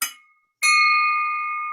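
A handheld bell rung at a Rotary club meeting gives two strikes: a short first tap that fades, then a loud ring that sustains clearly to the end, heard alone.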